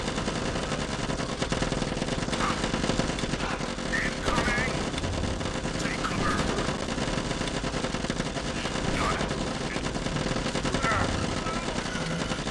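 Continuous gunfire from weapons in the zombie shooter game Zombie Defence, kept at low volume: dense rattling shots under a steady wash of game noise, with no clear gaps.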